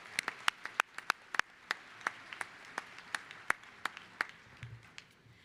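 A university commencement audience in Wisconsin applauds a regent, a sparse, distant round of separate sharp claps at an uneven rhythm that thins out toward the end, with no talk.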